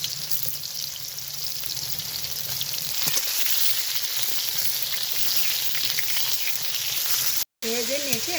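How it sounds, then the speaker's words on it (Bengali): Ridge gourd slices fry gently in hot oil, giving a steady, close sizzle and crackle for most of the stretch, broken by a brief dropout near the end, after which a faint voice comes in. "একদম আলতো হাতে ভেজে নিতে হবে ঝিঙ্গেটা।"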